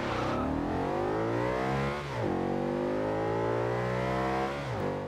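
A Forza Horizon 2 car engine revs hard and accelerates through the gears, its pitch climbing in long sweeps broken by quick shift dips, loud and steady throughout with no talk.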